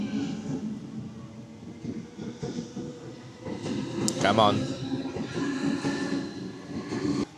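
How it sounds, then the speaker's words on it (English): A train pulls out of a station in Sydney, its low rumble and rail clatter building steadily with a brief metallic squeal in the middle, while a person speaks briefly over the noise. "I'm gonna wait for this train to leave before I continue"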